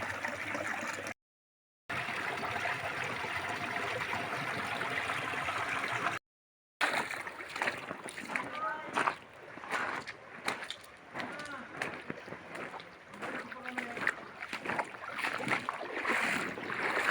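Water rushing at a waterfall that is almost drained, a steady broadband wash heard from close by. Voices chatter over it, and there are brief dropouts in the sound.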